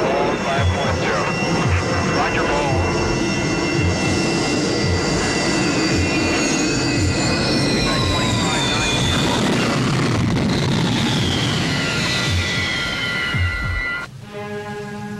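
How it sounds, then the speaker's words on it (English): A jet aircraft roars in to land on a modern aircraft carrier's deck, its loud, sustained engine howl filling the scene with shifting whine tones before cutting off near the end. "the deck still seems small to jet pilots roaring in for a landing"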